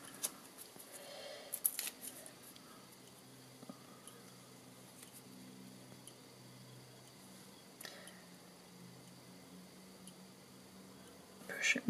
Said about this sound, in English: I can then just cut a strip to go